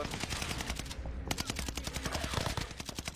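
Rapid bursts of video game gunfire crackle loud and close, dense repeated shots with a machine-gun rhythm running through the whole stretch and only a brief lull near the middle.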